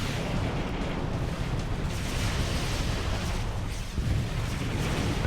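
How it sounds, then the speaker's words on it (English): Dense, continuous barrage of missile fire and explosions in the space strategy game Sword of the Stars, a loud roaring wash with no pauses, alone without talk. "As you can see, they're firing a lot of missiles."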